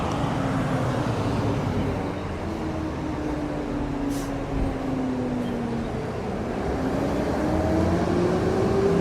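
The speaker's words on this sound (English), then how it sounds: "School buses are so loud." Loud, continuous engine rumble from school buses passing on a street on a warm day, with broad roar and shifting drone tones swelling and fading as heavy vehicles go by nearby.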